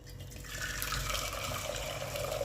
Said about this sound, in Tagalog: Pakulo na tayo ng tubig para mabilis.